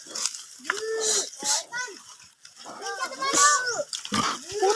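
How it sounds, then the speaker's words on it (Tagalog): A pig near a mango tree in a rural yard, grunting and squealing in several loud, close bursts with pauses between them. Voices are also present. "Mamaya, may baboy."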